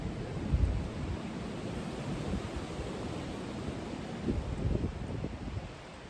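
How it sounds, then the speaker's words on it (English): Strong wind gusts steadily past outdoors with a broad, noisy rush and a rustle, swelling with a couple of stronger gusts, and no voices are heard. "I don't know if you guys can hear that, but that wind is crazy."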